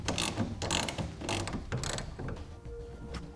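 Ratchet clicking as a TruXedo TruXport soft roll-up tonneau cover clamp is tightened onto a pickup truck bed rail, a series of close, loud bursts of clicks for about three seconds with no talk.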